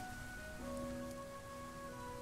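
Steady rain falling in a video game, a continuous soft patter over faint sustained tonal hums, even and unbroken throughout.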